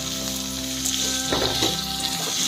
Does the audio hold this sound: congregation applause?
no